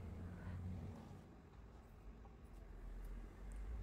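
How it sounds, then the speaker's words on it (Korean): A car and bus pass by outside as a low, faint rumble of traffic that swells and fades under quiet background. "영상 사이사이로 버스랑 차 지나가는 소리도 들리니까 양해 부탁드릴게요"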